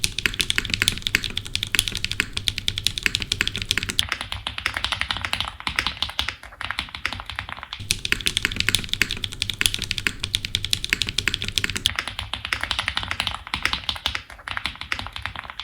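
QK65 custom mechanical keyboard typed on continuously, dense rapid clacky keystrokes in bursts with short pauses, close and clear with no talk.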